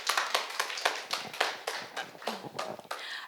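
A small church audience claps to welcome a deacon coming up to speak, giving a brief run of distinct, fairly close handclaps at an uneven pace with no voices over them.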